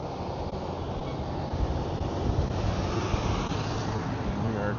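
Steady, heavy wind buffeting the microphone, a constant low roar with no breaks, loud and close.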